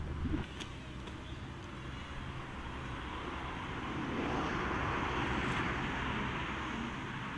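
A small DJI Tello drone flies outdoors toward a car roof, its steady whirring propeller drone rising slightly louder midway, faint and continuous against wind and background noise.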